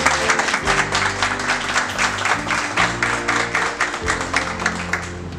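An audience at a school graduation anniversary claps steadily and fairly loudly throughout, while music with sustained low tones plays beneath the applause.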